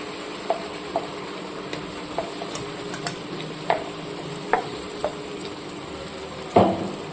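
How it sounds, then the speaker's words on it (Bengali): Ginger, garlic and green chili paste frying with a pinch of sugar in hot oil for a rohu fish curry, a steady sizzle under repeated light clinks and scrapes of a spatula stirring, with a louder scrape near the end. "এবার এটাকে খুব সুন্দরভাবে লাল লাল করে ভেজে নেব।"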